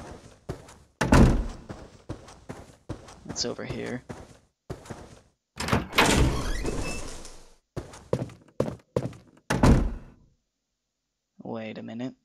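Heavy thunks and a slam of a spooky door opening and closing in the Clock Tower 2 video game, with several sharp knocks and creaky thuds spread over the passage, someone talking briefly near the end.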